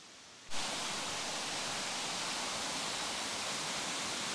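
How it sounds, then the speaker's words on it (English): Alinja Waterfalls at Mossman Gorge roar as a dense, steady rush of falling water, loud and unbroken after a brief quieter start, with no voices. "So, waterfall number 3, beautiful in its own way. Another awesome waterfall."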